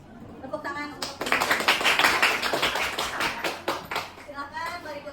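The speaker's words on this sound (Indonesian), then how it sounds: "Terima kasih. Tepuk tangan untuk" A classroom group of students claps after a presentation, a burst of quick, uneven hand claps from several people close by, fading out over a few seconds while a voice speaks at the start and end.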